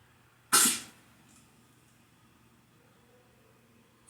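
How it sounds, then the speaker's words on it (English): A single sharp cough bursts out once, fairly close and clear, then fades into a quiet, faintly humming room with nothing else happening. "Coughing over there."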